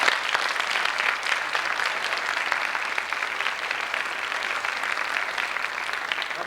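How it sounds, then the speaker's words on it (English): Graduation audience in a 1991 high school ceremony applauds steadily, a dense, even crowd of clapping sustained throughout, somewhat distant and uninterrupted by speech. "I would like you to give yourselves a round of applause"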